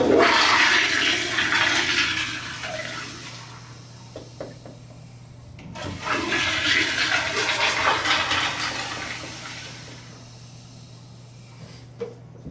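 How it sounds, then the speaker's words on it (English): A toilet flushes after being plunged to clear a clog, with a loud rushing surge of water, a quieter refill gurgle, then a second strong flush surge around the middle before it fades again. "then I'm going to flush and then use that flush water to help push that down"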